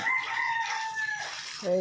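A chicken crows and clucks close by in a rural setting, a continuous fowl call with a sharper cluck at the end, over steady background noise.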